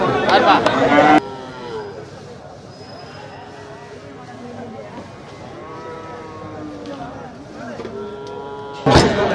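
Cattle at the Melur livestock market in Tamil Nadu, with low moos and lowing sounding through a busy background while people talk nearby, bracketed by louder bursts of crowd noise at the start and end.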